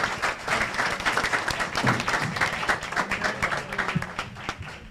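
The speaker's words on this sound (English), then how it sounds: "help me give Leroy a round of applause" An indoor audience at a city hall meeting claps steadily, a dense patter of many hands that holds strong before tapering off slightly.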